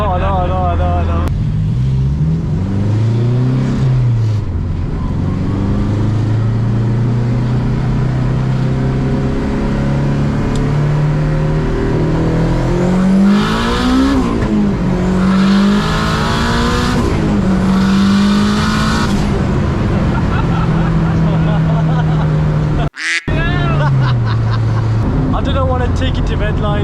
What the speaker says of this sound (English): more like whistling noise from turbo